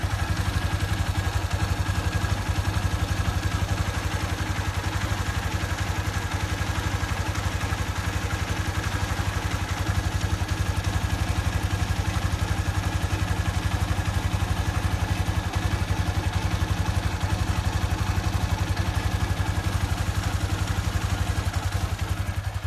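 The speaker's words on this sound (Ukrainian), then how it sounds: "От якийсь такий ось звук мотора" A 2025 Mustang MT-250R motorcycle engine, warmed up, idles steadily for a long stretch, a continuous low rumble with faint mechanical clatter and no talking.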